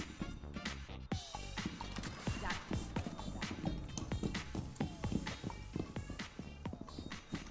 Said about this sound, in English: I hear someone's footsteps.